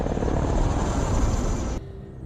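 A helicopter in the action film London Has Fallen roars loudly and steadily with a broad rotor and engine rumble, then cuts off abruptly near the end to a quieter hum.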